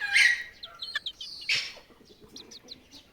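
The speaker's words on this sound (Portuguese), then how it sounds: "O gajo que me deu estes frangos disse-me que eles eram muito maus" Young chickens (frangos) calling, with a loud bird cry at the start and another at mid-clip, followed by softer, brief chirps and clucks at close range and no talk.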